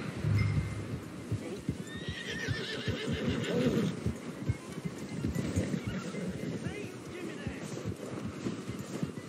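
A horse neighs loudly in Red Dead Redemption 2, the whinny rising above steady clip-clop hooves. Outdoor game ambience runs underneath.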